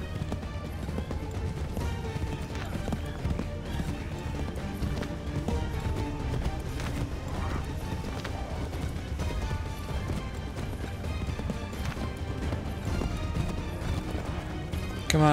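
A horse gallops in Assassin's Creed III Remastered, with continuous rhythmic clip-clop hoofbeats and game music and effects underneath, loud and steady throughout.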